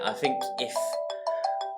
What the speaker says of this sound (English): and that is a phone call.